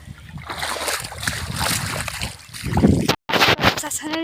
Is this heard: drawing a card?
no